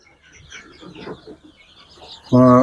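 Ukrainian Barvisty chickens give a short, loud burst of clucking at the very end, after a stretch of faint scattered bird sounds.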